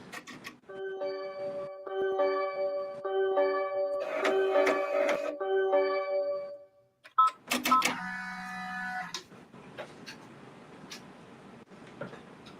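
Embroidery machine stitching an outline for an in-the-hoop project, a close, rapid mechanical whirring of needle strokes in two bursts separated by a brief pause, the second louder and faster before fading into quieter rustling.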